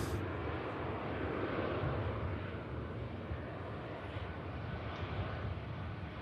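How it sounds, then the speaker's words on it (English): A Virgin Atlantic airliner taxiing at Manchester Airport gives off a steady, broad engine roar that stays fairly constant, heard from a distance with no voices. "The Virgin Atlantic may be continuing the taxi now"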